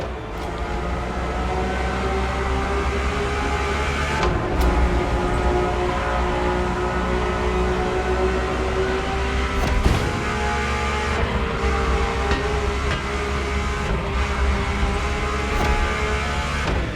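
Ferrari supercar engine driven in a race in the Motorfest video game, heard from the in-car view: a loud, steady, high-revving drone with shifting pitch, plus brief dips and surges, running continuously with no talk.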